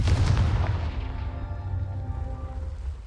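A Confringo spell is cast in the Hogwarts Legacy video game, making a loud booming blast that starts at once and rumbles away over about three seconds.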